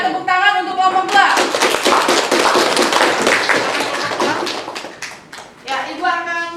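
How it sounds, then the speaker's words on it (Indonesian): A classroom of students claps for group two after its presentation during a mathematics lesson, bursting into brisk, uneven clapping for about four seconds, framed by a teacher's voice speaking before and after. "tepuk tangan untuk kelompok 2"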